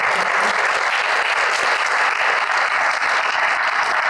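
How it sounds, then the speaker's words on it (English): Audience applause at a post-election briefing fills the room, with dense, even clapping from many people that holds steady from start to finish, and no one speaking over it. "Let's give a round of applause."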